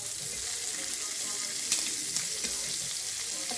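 Shrimp crackle and sizzle in a hot frying pan as they get turned over, a steady bright hiss with a few sharper spatters and faint scraping partway through.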